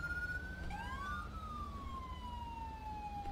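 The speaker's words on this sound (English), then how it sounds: "I'll cut back these sirens." Police car sirens wailing in a police roleplay driving game, with overlapping steady tones gliding up and down at moderate volume over a low engine rumble.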